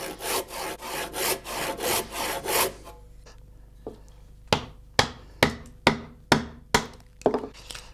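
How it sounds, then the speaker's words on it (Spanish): A craftsman roughing out a small wooden barrel carved from a log with a gouge, first a run of rhythmic rasping strokes, then a pause and a series of sharp, evenly spaced knocks of tool on wood, close and loud. "El artesano desbasta la madera con la gubia, tanto en el cuerpo como en las cabezas."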